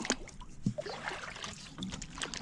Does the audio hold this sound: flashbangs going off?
no